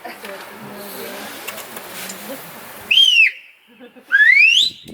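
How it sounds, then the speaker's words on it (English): Two sharp, high sheepdog herding whistles ring out near the end, one sliding down and the other rising, after a stretch of murmured talk and background noise at a sheepdog demonstration in the Wicklow Mountains. "So that's the right whistle."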